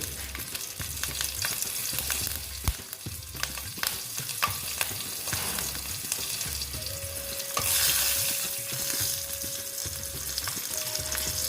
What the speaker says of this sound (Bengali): তেলটা প্রায় গরম হয়ে এসছে এখন আমি দিয়ে দিচ্ছি কালো জিরে আর দিচ্ছি কাঁচা লঙ্কা দুটো